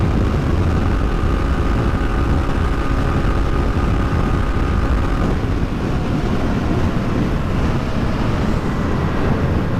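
An FB Mondial HPS 300 motorcycle running flat out at top speed in fifth gear, a loud continuous engine drone buried in heavy rushing wind noise, steady with no pauses.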